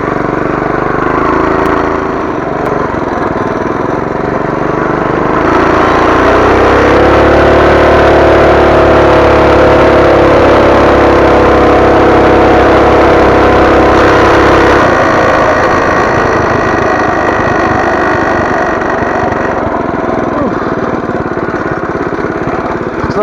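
A modified Coleman BT200X minibike with the governor removed, an aftermarket header and a torque converter roars through a top speed run, its small engine droning loud and close, rising in pitch as it accelerates, then holding steady.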